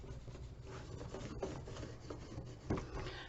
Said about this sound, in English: I will take my bone folder and I will rub it across the top